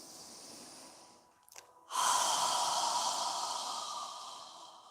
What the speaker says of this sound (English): inhale through your nose and exhale through your mouth